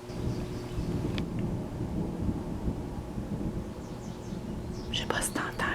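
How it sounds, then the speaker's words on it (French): Low, continuous thunder rumbles from a distant approaching storm, a steady deep roll throughout with some faint higher rustling and a brief burst of noise near the end. "Il y a du tonnerre."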